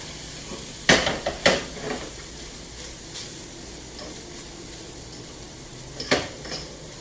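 Egg foo young mixture with chicken and green onions being stirred with a fork in a pan over a turned-off flame: a few sharp scraping clatters and taps, with quiet sizzling in between.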